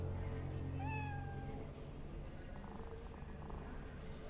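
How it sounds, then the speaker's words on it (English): A hairless cat in the video game Cyberpunk 2077 gives one short, rising meow, faint and set within a steady, busy game backdrop that continues after it. "I never touched a cat with no fur."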